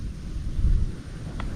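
Wind gusts and rough waves rumble at sea in the rain during a small-boat airgun fishing trip: a low, muffled buffeting, faint and steady, with a brief stronger swell in the middle.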